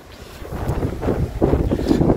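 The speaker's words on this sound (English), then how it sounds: "Today is very windy." Strong wind at Haldimand Beach in Gaspé, by an open bay, buffets the microphone in a low, rumbling roar that builds and gusts over a couple of seconds.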